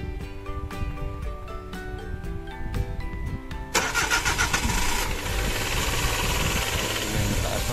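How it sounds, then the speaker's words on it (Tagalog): A cold Suzuki Every K6A engine cranks with a rapid, whirring starter for several seconds, then catches and settles into a loud, steady high idle up close. "Itetesting na natin ang ating makina. Paandarin na natin."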